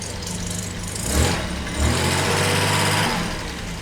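A car engine idles steadily while warming up after a switch from waterless coolant to regular coolant, with a low rumbling hum that swells briefly twice, near and alone.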